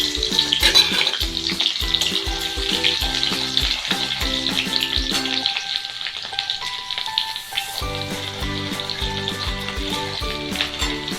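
Garlic sizzles and fries in a pan, a loud, dense crackling hiss holding steady throughout, with a brief lull near the middle before the frying swells again.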